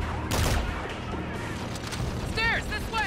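Dense gunfire in the Infinite Warfare campaign, a sci-fi military shooter game, with continuous shots and bursts throughout, while a voice talks over the combat.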